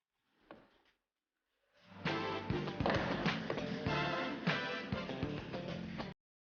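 Assembly wedge prying the inner door trim section off a Mercedes-Benz Actros truck door: a short scrape, then a loud, dense run of plastic cracks, clicks and creaks lasting several seconds, close up with no talk.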